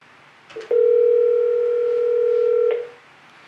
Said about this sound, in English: Okay, so I've dialed the phone.